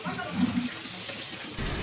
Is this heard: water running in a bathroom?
yes